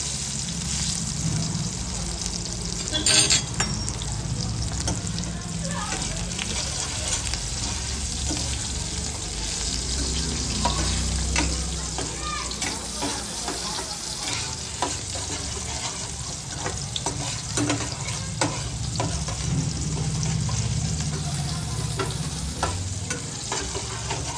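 Onion and tomato tempering for paneer bhurji sizzles steadily in a pan with a broad, continuous frying hiss, broken by occasional scrapes and clinks of stirring, with no talking.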